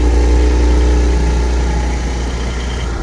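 Porsche 718 GT4 engine running at a steady, loud, close rumble with a deep low-end throb and layered harmonic drone, holding constant throughout without speech.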